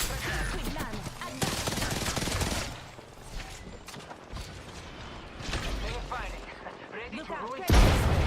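Gunfire in a video game during a live stream, with dense, clattering bursts of shots layered over busy battle noise and a sharp loud crack near the end.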